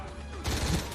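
Gunfire in a Stargate SG-1 episode, a rapid burst of shots rising suddenly midway and continuing as a dense fusillade, somewhat distant and muffled.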